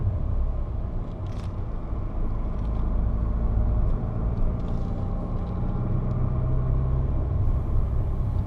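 A manual car labours uphill in second gear, its engine a steady, loud low rumble under road and cabin noise that holds for the whole stretch with no talking.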